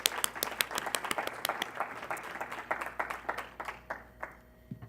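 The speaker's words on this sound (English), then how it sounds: "Please join me in a round of applause as Dr. Anderson comes to the podium" Audience applause at the 2014 TOTY Starfish program as a speaker comes to the podium: a steady burst of many hands clapping that gradually thins and fades toward the end.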